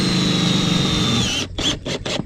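Power drill driving screws through a metal roof panel on a horse barn, a long steady whine that drops off, then three short separate bursts as screws are seated, loud and close.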